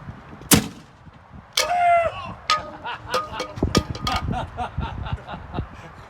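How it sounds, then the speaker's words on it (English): A T-shirt launcher fires with one sharp, loud pneumatic pop near the start, followed by rattling handling noise and short knocks from close by. "launcher test number 1"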